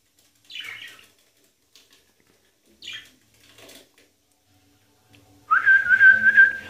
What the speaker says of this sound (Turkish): Çekoslovak kırığı kuşlar